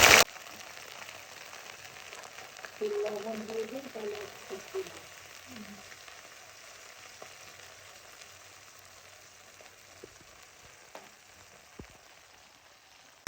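Bay leaves and onion paste frying in oil for a rohu fish curry, heard as a soft, continuous sizzle with a brief louder burst of spattering early on that fades to a faint hiss, close by and quiet.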